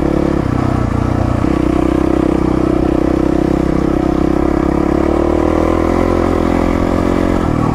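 A Yamaha WR450 dirt bike engine drones loud and close during riding, with a steady mid-pitched roar, slight shifts in revs and rattling clatter throughout, with no talk.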